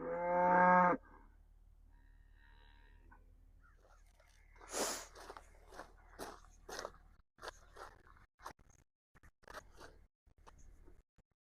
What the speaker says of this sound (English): Hold on, trying to move cows.